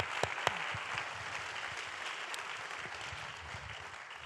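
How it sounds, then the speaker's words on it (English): Conference audience at SB Paris 2019 gives a big clap, a steady, fairly distant wash of clapping with a few sharper hand claps standing out early. "Big clap."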